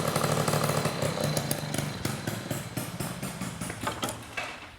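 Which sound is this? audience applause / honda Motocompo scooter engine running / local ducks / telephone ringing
honda Motocompo scooter engine running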